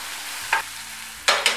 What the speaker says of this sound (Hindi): प्याज को हमें लाइट ब्राउन होने तक भूनना है।